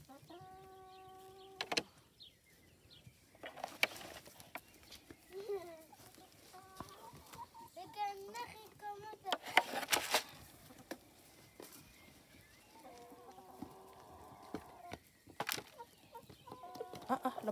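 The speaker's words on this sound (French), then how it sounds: "Les poules viennent déranger." Garden hens cluck and squawk in short, scattered bursts at close to middle distance, with brief pauses and a few sharp calls breaking the quiet background.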